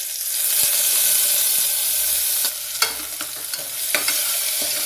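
Moong dal, washed and added with curry leaves, lightly roasted in a pan: a loud steady sizzle with spoon scrapes and stirring taps that grow more frequent as the hiss eases slightly.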